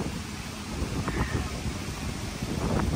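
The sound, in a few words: heavy rain and wind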